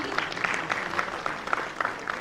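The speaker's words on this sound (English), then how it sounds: "Let's give them a big round of applause and a token of gratitude" Applause at an international health sciences conference award ceremony, a steady patter of many hands clapping together with no voices over it.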